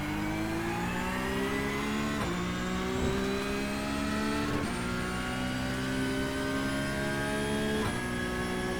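A Porsche Cup race car engine screams around the Daytona track under the lights, a loud, sustained high-revving whine with several sharp dips at gear shifts, alone without talk.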